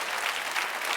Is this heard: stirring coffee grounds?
no